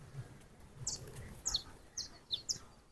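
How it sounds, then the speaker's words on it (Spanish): Small birds chirping in a leafy hotel garden, a few short, high, bright tweets repeating in quick pairs over quiet background, moderately near. "Se escuchan mucho los pajaritos"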